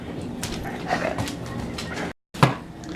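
A dog indoors whimpers and lets out several short, high yips in quick bursts, fairly close, with a sharp final yelp after a brief gap.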